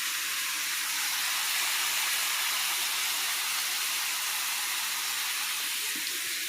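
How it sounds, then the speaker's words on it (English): Lamb cooking in a pan gives a loud, steady sizzle, a dense unbroken hiss that holds evenly throughout with no talking. "I'm cooking up some lamb"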